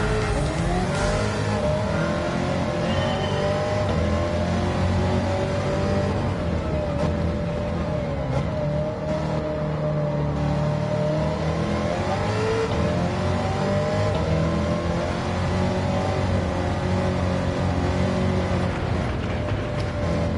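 A 1969 Corvette with a high-rev supercharger in Gran Turismo 7 revs loud and sustained, its engine pitch rising and falling through repeated accelerations with brief tire squeal, with no talking.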